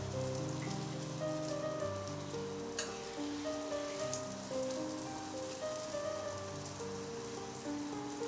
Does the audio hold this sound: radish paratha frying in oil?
yes